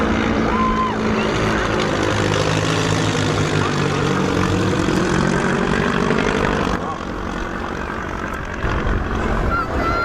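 A 1934 German-designed, ex-Spanish Air Force propeller aircraft flies at an airshow, its engine drone loud and steady throughout, with a slight drop in level near the end and a voice briefly audible underneath.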